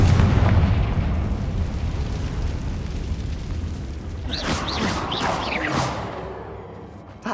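A Confringo spell blast in Hogwarts Legacy, a loud booming explosion with a long rumbling decay, followed by a few sharp whooshing game effects before it fades.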